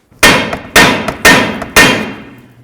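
Four heavy hammer blows on a lower control arm ball joint and steering knuckle of a Mazda 3 at a steady, even pace, each ringing briefly before the next strike; close and loud.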